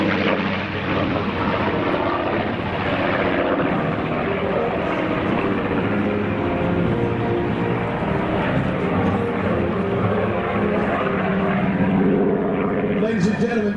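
Clipped-wing Supermarine Spitfire G-SPIT making a final display pass at an air show, a loud sustained propeller-engine roar that holds steady throughout, with people talking over it.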